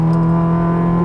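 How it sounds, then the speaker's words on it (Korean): A Honda VTEC four-cylinder engine revs hard and steadily at high rpm, its loud, buzzing exhaust note holding a strong sustained tone close by with the pitch beginning to rise at the end. "6100rpm을 기점으로 VTEC이 고회전 캠으로 변환이 되거든요. 그래서 소리가 그 기점으로 해서 확 배기 소리가 바뀌는 걸 느낄 수가 있습니다."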